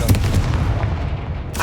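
A Confringo blasting spell from Hogwarts Legacy goes off as a deep, rumbling explosion that stays heavy and sustained through the moment, with a sharp burst of noise near the end.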